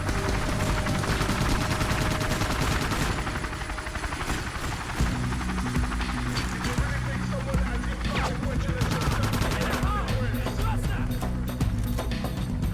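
Rapid automatic gunfire pours into an attacking helicopter in the video game Soldier of Fortune Payback, dense and continuous over the rotor and engine drone, with loud battle noise throughout.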